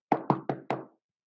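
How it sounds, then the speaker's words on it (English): Four firm, evenly spaced knocks on a wooden door ring out close and loud in quick succession, then the room falls silent, used as an offstage theatre sound effect in a reading of Macbeth. "A loud knock off stage."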